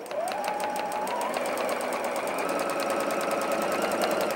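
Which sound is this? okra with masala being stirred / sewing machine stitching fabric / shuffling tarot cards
sewing machine stitching fabric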